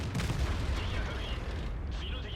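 Tank cannon shot in World of Tanks, a single heavy boom with a rumbling tail, loud and close, over steady battle noise.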